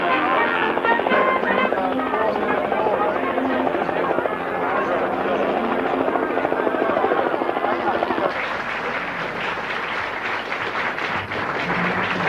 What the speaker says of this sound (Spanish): Entonces el tipo llega en helicóptero